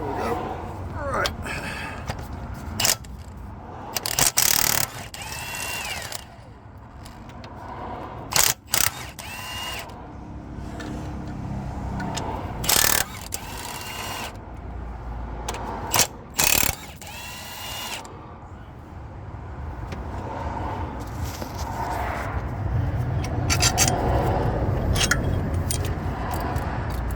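A ratchet undoes the cylinder head bolts on an overheated Land Rover Defender 300tdi, with repeated bursts of close metallic clicking and clunks spread across the stretch while someone talks at times.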